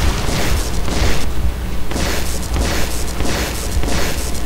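Explosions rumble and crash continuously in the video game Metro 2033, a loud, dense barrage of booms and blasts that swell and recede in waves without a break.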